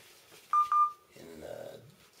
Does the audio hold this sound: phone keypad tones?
yes